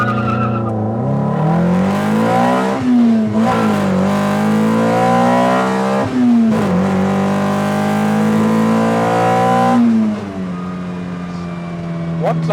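An engine-swapped Toyota MR2 Spyder holds loud, high revs for a launch, its engine note wavering up and down repeatedly close by, while people talk under the noise.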